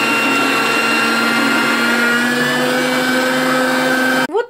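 An electric grater whirs loudly and continuously while shredding carrot pieces for zucchini spread, a steady motor drone that cuts off abruptly near the end.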